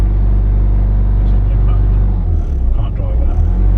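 A gold van's engine running rough, a steady loud low rumble that grows uneven and lumpy toward the end, close up, with talk over it.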